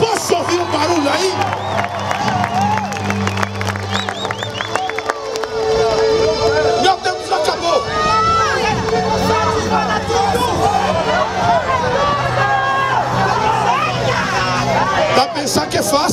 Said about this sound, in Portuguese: Alguém aplauda aí. Posso ouvir um barulho aqui?